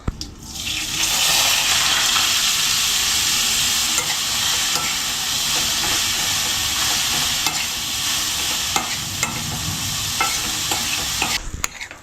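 Wheat shevai stirred into hot tempering in a pan gives a continuous loud hiss and sizzle, with scraping and stirring strokes throughout and no talk.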